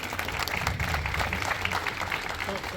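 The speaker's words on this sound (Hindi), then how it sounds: "तालियां बजती रहे।" An audience at a grand opening applauds in a dense, steady patter of claps that holds through the whole moment, fairly soft and distant.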